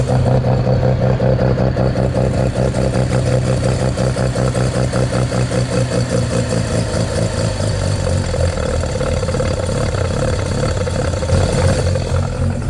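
A 1979 Mazda 323 rotary engine idles nearby with its idle turned down, a steady burbling, slightly uneven clatter running throughout.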